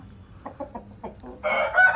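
A rooster crows loudly and close by, preceded by a few short clucking notes from nearby fowl.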